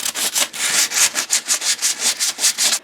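Hand sanding with 80-grit sandpaper on the bead and inner corners of a W126 Mercedes-Benz S-Class wheel, a close, steady rhythm of about a dozen raspy back-and-forth strokes with no talking.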